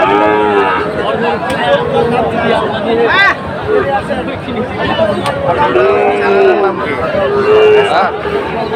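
Repeated deep lowing and moos from Sahiwal bull calves close by, over a busy background of crowd chatter and voices at a cattle market in Chittagong.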